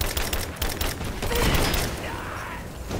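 A grenade bursts in Rise of the Tomb Raider amid rattling gunfire, the blast swelling to a heavy boom in the middle before the shooting trails off, loud and near.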